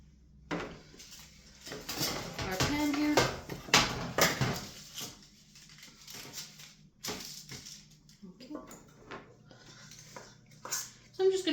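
Cookie dough for M&M chocolate chip cookies clatters onto a metal baking pan in a string of scraping, tapping and clinking handling sounds, with a voice speaking intermittently.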